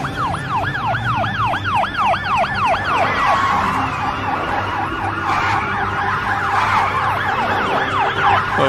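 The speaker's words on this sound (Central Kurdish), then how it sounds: "ئەوەش پۆلیس ها؟" A police car siren yelps in fast rising-and-falling cycles amid road traffic and a steady engine rumble, shifting to a slower, broader wail midway, fairly loud and continuous.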